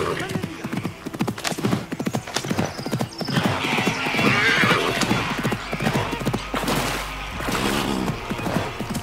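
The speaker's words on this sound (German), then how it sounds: "Das Pferd geht ja ab hier." Steady, rapid hoofbeats of a horse galloping in the video game Assassin's Creed Mirage, close and continuous, with whooshing movement sounds layered over them and a voice speaking at times.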